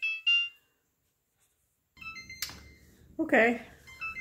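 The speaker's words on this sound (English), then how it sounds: "timer's going off." A timer alarm sounds in a home where drywall tape and mud are being sanded and applied, giving short electronic beeps at the start and then more tones under clattering and a person's speech.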